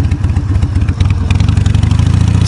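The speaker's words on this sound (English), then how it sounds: "So somebody was doing some like burnouts there." A motorcycle engine runs loud and close with a rough, pulsing throb, from someone doing burnouts nearby.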